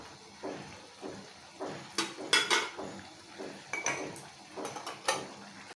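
A spoon stirs cornflour into a couple of spoonfuls of water in a small bowl for chilli chicken gravy, giving a series of light clinks and scrapes against the dish, fairly close and unhurried, with no talk.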